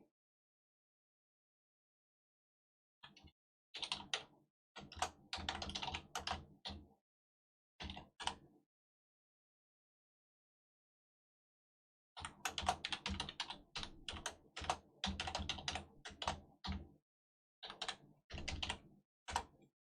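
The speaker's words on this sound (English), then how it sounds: "A lot of typing going on in the background there" Computer keyboard typing sounds faintly in the background as irregular bursts of rapid key clicks separated by silent pauses.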